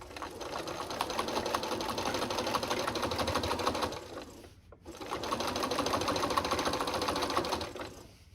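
A sewing machine stitching a flange border on quilt fabric whirs steadily and close, pauses briefly for a turn at the corner, then resumes its rapid, even stitching.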